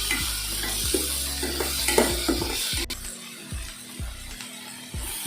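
Onions saute in a pan while a spatula stirs them repeatedly, with rhythmic scraping strokes over a continuous close sizzle that thins out midway, and no talking.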